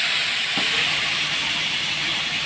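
Potatoes frying in a pan as water and spices are poured in, giving a steady loud hiss of sizzling oil that holds throughout.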